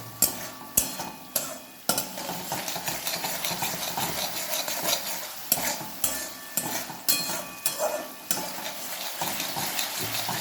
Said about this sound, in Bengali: এখন ভালো করে মশলাটা বসবো যতক্ষণ তেল ছেড়ে না আসছে